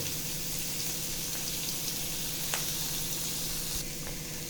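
Green chili paste sautéing in a hot pan for a Gujarati mug pulao, with a steady close sizzle that holds level the whole time, with no talking.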